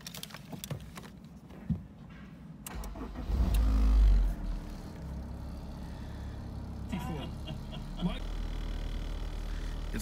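A Honda S2000 roadster, 18 years old with 136,000 miles, cranks over and fires, with a surge of engine noise settling into a steady idle close by, while a person talks around it.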